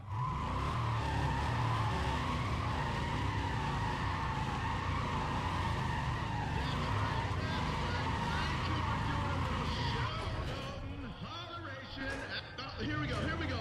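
Chevrolet Chevelle engine roaring in the racing game Need for Speed ProStreet, a loud continuous drone with tire squeal and skidding, easing off near the end while someone talks over it.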